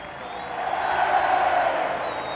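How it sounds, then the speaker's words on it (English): A large stadium crowd at a 1997 Bradford rugby league match against Paris makes a broad, steady roar of cheering that swells in the middle and holds at a loud, distant level, with no clear individual voices. "this wonderful, wonderful crowd."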